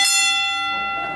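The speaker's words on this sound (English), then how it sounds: "A bell will ring when the time is up. If we can please hear the bell." A timekeeper's bell gives a single bright ring, loud and close, with a clear metallic tone that slowly decays over about a second.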